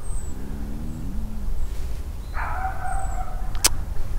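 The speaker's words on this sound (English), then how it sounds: "There's a dog anyway." A dog barks outdoors among trees in Killiney, Dublin, a short run of calls against steady outdoor background noise, moderately distant, with no talking.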